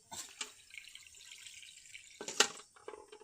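Faint tap water runs and splashes as meat is rinsed for an Eid al-Adha meal, with soft drips and a louder gush of water near the end.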